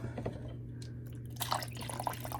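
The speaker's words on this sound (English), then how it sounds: "Just want to pour a little bit on top of the cabbage, so I'm just going to use a little hot water" Hot water poured over cabbage rolls, a faint, close trickling and dripping with a brief fuller splash of liquid toward the end.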